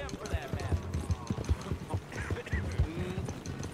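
Rhythmic hoof clip-clops from a horse trotting nearby in Red Dead Redemption 2, mixed with voices talking and other game sounds in the background.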